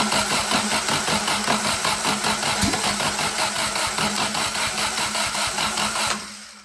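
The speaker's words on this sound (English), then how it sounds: "Let's start it again, and we don't have the coil going, so it's just gonna crank over." An engine cranks over on its starter with the ignition coil disconnected, giving a steady, rapid rhythmic chugging that stays loud and close for about six seconds before stopping abruptly.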